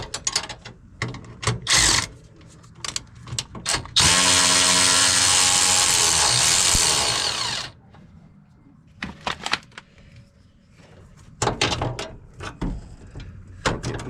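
A power tool whirs loudly for a few seconds while tightening nuts on the upper A-arms of a RZR, surrounded by sharp clanks and ratcheting clicks of hand tools.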